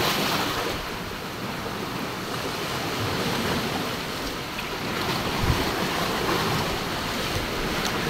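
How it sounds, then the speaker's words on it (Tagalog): Strong ocean waves surge and break continuously at close range, a dense, steady roar of surf mixed with wind buffeting the microphone, with no voices over it. "Sana tumigil na yung alon"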